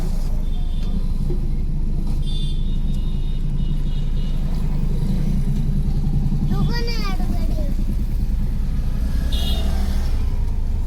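Steady low rumble of a car on the road throughout, heard from inside the vehicle while people talk and a brief whistle-like tone rises in the middle.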